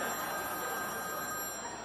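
A telephone rings faintly and steadily throughout, a thin electronic tone heard alone in a quiet room.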